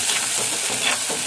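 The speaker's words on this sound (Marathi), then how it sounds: "त्याच्यात टाकूया चण्याची डाळ, भिजवून घेतली. ही आता परतून घ्यायची व्यवस्थित." Soaked chana dal sautéing with already-browned onion in a hot pan gives a steady, close sizzle and hiss with soft stirring scrapes throughout.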